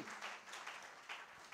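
A church congregation applauds and cheers during a worship service, a steady wash of clapping with a few louder swells throughout.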